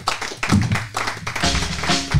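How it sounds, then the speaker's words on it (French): Audience applause after a talk at a conference on secularism, heard as a short burst of close, dense hand claps that fills the whole moment without any voices over it. "Je pense qu'elle mérite des applaudissements. Nourris."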